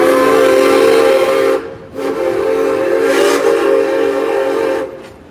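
Steam train whistle on the Frisco Silver Dollar Line, a loud, close, sustained blast that breaks briefly, sounds again for several seconds, then cuts off.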